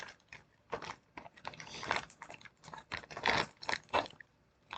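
Close crunching and chewing of small curled, crunchy Japanese snacks, a steady run of crisp bites and munches with no talking.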